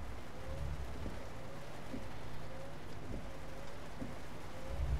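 Rain in Euro Truck Simulator 2 during a lightning storm, heard as a faint, steady patter and hiss under a low truck engine hum, with soft thumps scattered through.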